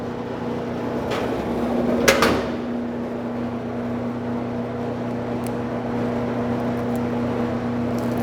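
Bluedog BWS-50 SAR automatic wire stripping machine runs with a steady, even motor hum while stranded 3/8-inch THHN scrap wire feeds through, with a brief clunk partway in and no voices.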